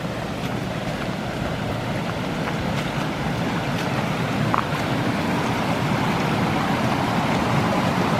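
Broadband rushing of stream water flows steadily and close by, unbroken throughout, a wash of noise with no voices, beside an old railway trackbed near Micklehurst.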